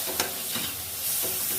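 Ginger garlic paste sizzles in a pan while being stirred for chicken pulao, with soft frying crackle and a few scraping stir strokes, close and fairly quiet.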